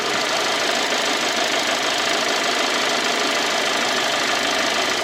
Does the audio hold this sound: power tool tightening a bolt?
no